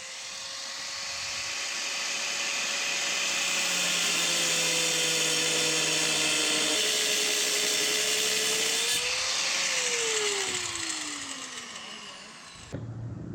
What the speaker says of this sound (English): But let's start grinding.